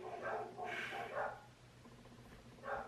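Pet dogs bark indoors in several quick, faint bursts, with a pause between the early run of barks and a final one near the end.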